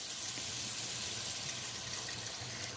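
Vegetable broth poured from a 32-ounce carton into a pot of white chicken chili, a steady soft gushing splash that stays even and fairly quiet from start to finish, with no voices.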